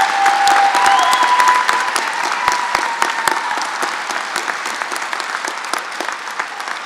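Sustained applause from a commencement audience at a college campus ceremony, dense steady clapping filling the hall and slowly tapering, with a faint tone and scattered voices underneath.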